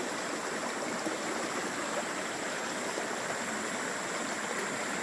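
A mountain valley stream flows in the early evening with a steady, unbroken rush of water that stays loud and even throughout, with no voices.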